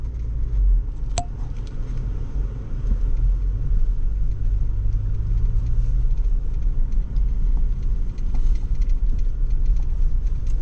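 A BMW M440i xDrive coupe drives over backyard turf with a continuous low, rumbling engine drone that stays close and steady throughout.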